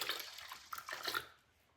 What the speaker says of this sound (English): So let's pour some in there.